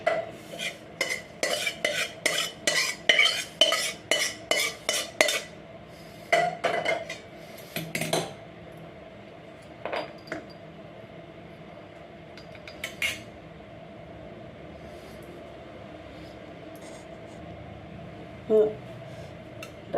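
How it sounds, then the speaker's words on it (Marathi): Dry fruits roasting in a pan while a spoon stirs them: a fast series of sharp metallic scrapes and clinks at the start, then mostly quiet low frying with a few scattered knocks. "चला आपले ड्रायफ्रूट पण भाजून घ्यायचे"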